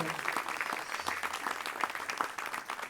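A smaller audience at a charity cheque-presentation ceremony claps for absent volunteers, individual hand claps audible within a moderate, uneven round of applause.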